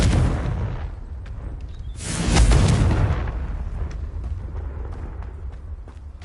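A Confringo explosive spell in Hogwarts Legacy bursts in a loud, broad blast around the second mark and rumbles off, set against quieter game ambience with scattered small crackles.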